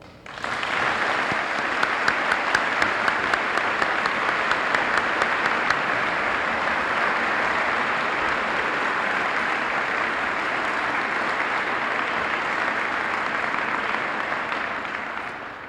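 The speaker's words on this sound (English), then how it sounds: "May we have applause for that?" Long, even round of audience applause during a television station's 25th anniversary special, a dense wash of clapping with a few distinct claps early on, holding steady before fading slightly at the close.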